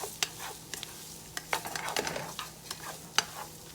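Shrimp cooking in a pan on low heat for shrimp fried rice: a gentle sizzle punctuated by several sharp clicks and scrapes of a utensil against the pan, with no voices.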